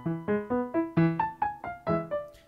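Piano playing a chord transition from the first movement of Mozart's Piano Sonata No. 1, about ten evenly paced struck chords and notes, close and clear with nothing else heard.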